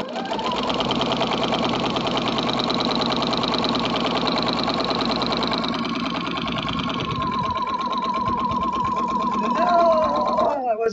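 A sewing machine quilting a potato chip block quilt runs in a steady, close, rapid mechanical whir, easing off and slowing near the end, while a person talks over it.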